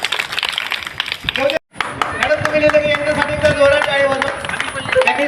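An audience claps at a housing society's second anniversary celebration in Sector 12, with crisp, sustained applause, a brief break, then more clapping beneath a faint steady tone.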